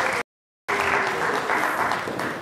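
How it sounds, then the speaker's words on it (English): Applause at an event honoring the planning committee, a steady crowd wash of clapping after a brief dropout at the start, holding at moderate level throughout. "they deserve another round of applause"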